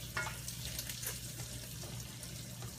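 Small chorizo sausages cut into rounds sizzle in a pan, a steady soft frying crackle with faint stirring scrapes, moderately quiet and uninterrupted.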